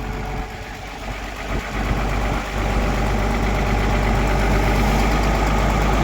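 Diesel engine of a 220LC-5 excavator just started, running at a steady idle with a deep knocking rumble and vibration, close and loud, settling slightly louder after a couple of seconds.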